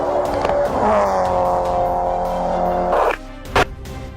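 A Honda car fleeing a police pursuit on a deflated tire after hitting spike strips, its engine droning steadily with tonal whine and road noise, then a sharp scrape and a brief thump near the end.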